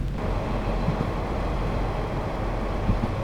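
A DB class 642 diesel railcar running in Train Sim World 5 produces a steady, rumbling interior drive noise with no speech, continuous and even throughout.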